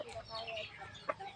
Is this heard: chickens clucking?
yes